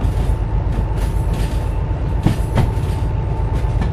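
A DH4 diesel-hydraulic locomotive running in the train simulator game Derail Valley, a steady low engine rumble with a constant tonal hum and a couple of brief clunks over the drone.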